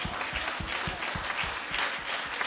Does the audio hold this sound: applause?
yes